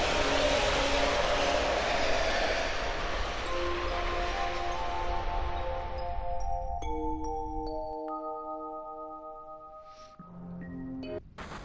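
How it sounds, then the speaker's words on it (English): A train ride in Final Fantasy VII, with a loud rumbling rush of the moving train that fades out, leaving sustained tonal chimes and ringing notes toward the end. "Hitching a ride on the train."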